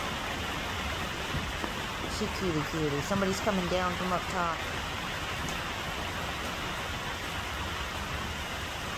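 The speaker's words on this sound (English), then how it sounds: "It's a rainy day." Steady hiss of rain falling throughout, with someone talking softly over it for a few seconds.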